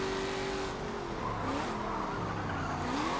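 A 1970 Buick GSX races at speed around Silverstone in Forza Motorsport 7, its engine droning steadily as tyres squeal through sweeping corners, with rising and falling tones continuous throughout and no voice over it.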